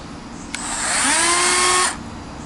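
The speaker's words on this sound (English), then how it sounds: "And I'm going to go ahead and cut the bamboo." A Dremel rotary tool cuts into bamboo in a single close, loud burst of about a second and a half. A high whirring whine rises in pitch, then stops abruptly, with no speech.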